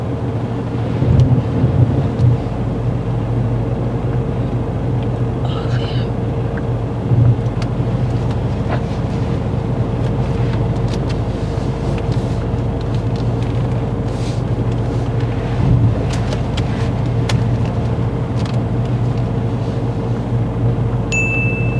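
A learner's car reverses and swings out during a driving test, giving a steady low engine hum inside the cabin with faint road and wind noise, no talking.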